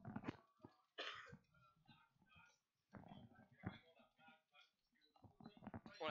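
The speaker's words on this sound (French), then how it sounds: "je vais tousser 2 secondes." Someone coughs repeatedly in harsh, rough bursts, with a few throat-clearing sounds between them, close up and fairly loud, while commentating a Super Smash Bros. match.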